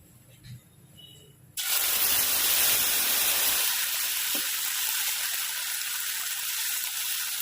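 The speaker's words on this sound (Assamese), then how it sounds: "এতিয়া তেলত এই পেষ্টটো দি দিম" Spinach paste dropped into hot oil for palak paneer, setting off a sudden loud sizzle and spray that begins abruptly after a quiet moment and keeps hissing steadily; no words are spoken.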